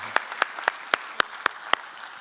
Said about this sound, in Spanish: démosle un aplauso a ellos también